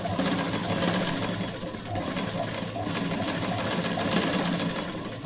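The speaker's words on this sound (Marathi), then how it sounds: "हे अशी जोडल्यानंतर परत उलट दिशेने अशी शिलाई मारायची डबल." A sewing machine stitches piping onto fabric in a continuous fast mechanical whir with a fine rapid needle rhythm. It is close and steady, with a slight dip partway through.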